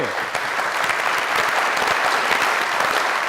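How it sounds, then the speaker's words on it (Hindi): Dense, steady clapping from a studio audience greets an actress arriving on a comedy night stage, a continuous loud wash of applause without speech. "ओए आप सबकी ढेर सारी तालियों में"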